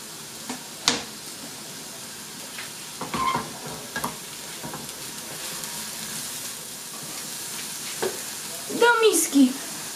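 Onion softens in a little butter in a pan with a low, steady sizzle, broken by a few soft utensil knocks and a brief clatter near the end.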